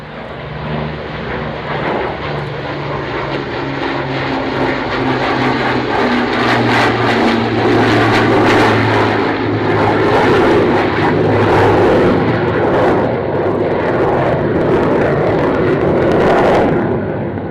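Memorial flight propeller aircraft making a single formation pass at an airshow, a loud, steady multi-engine drone that swells as the planes approach and holds close overhead.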